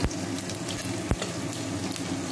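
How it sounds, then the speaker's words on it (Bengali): Katla fish frying in oil in a wok, giving a steady, close, dense sizzle throughout with a couple of sharp clicks and pops; no voices. "মাছগুলো একটা কড়াইতে ভাজছি"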